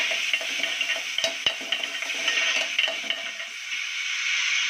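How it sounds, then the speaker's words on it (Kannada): Tempering of cumin and curry leaves sizzles in the same pan just used to fry vegetables for a North Karnataka hindi palya, a steady close hiss with small crackles and a few sharp spoon or pan clicks. "ತರಕಾರಿ ಫ್ರೈ ಮಾಡ್ಕೊಂಡಿದ್ಮೇಲೆ ಅದೇ ಪಾತ್ರೆಗೆ ಒಗ್ಗರಣೆ ಹಾಕ್ತಾಯಿದ್ದೀನಿ"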